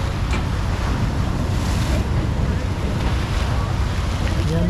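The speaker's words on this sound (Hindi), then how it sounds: "देख रहे हैं समंदर की लहरें।" Sea waves wash and surge continuously off the coast at Istanbul, a broad roaring rush mixed with heavy wind buffeting the microphone, loud and unbroken, with a faint voice briefly underneath.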